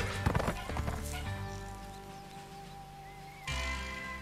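Horse hooves clip-clop in the prison-escape video game The Escapist 2, a quick cluster of loud hoof hits up front followed by a sustained tonal game sound and a short final swell.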